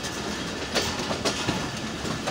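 Shah Hussain Express and Millat Express passenger trains crossing slowly on loop lines, with a continuous rolling rumble and rhythmic clickety-clack of wheels over rail joints close by.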